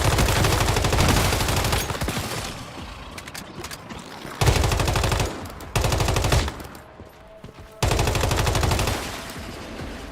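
Rapid automatic weapon fire in the shooter game Once Human, loud sustained bursts of several seconds each separated by short pauses, close and dominant with no talk over it.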